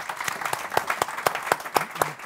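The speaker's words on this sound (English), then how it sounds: "Please join me in giving them a fantastic round of applause." An audience at an evening recognition event applauds, a steady, moderately loud patter of many hands clapping in a rhythmic, even wash with no talk over it.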